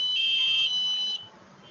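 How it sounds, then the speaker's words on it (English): An NFC-based door entry alarm buzzer gives a steady high-pitched electronic tone for about a second, loud and piercing, then cuts off leaving faint hum. "For the alarm system, scan the NFC, there is a LED indication with the buzzer."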